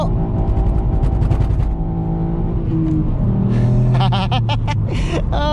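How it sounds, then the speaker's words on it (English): Ford Fiesta ST with a TRS Stage 1 remap accelerating hard in second gear, the engine note loud and close and rising with a judder as the wheels hop, and a voice exclaims over it. "let me plant it in second so you can hear the wheel hop that I was talking about"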